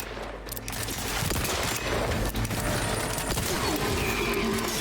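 Rapid gunfire from a weapon in the video game Outer Worlds 2, a dense, loud burst of shots that carries on almost without a break and sits close and forward.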